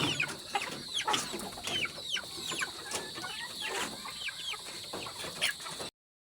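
Several chickens cluck and chatter in overlapping bursts at close range, with occasional sharper squawks, over a steady background hiss.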